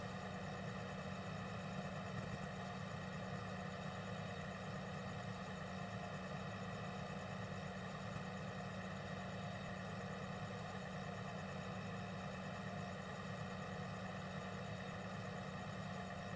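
A tractor engine idles in a field, a steady unbroken drone with a low rumble and even mechanical hum, moderately close and continuing without change throughout.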